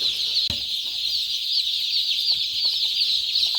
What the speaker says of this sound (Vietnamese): tiếng chip chip vang lên khắp chuồng, tạo một khung cảnh rất là sống động của đàn gà con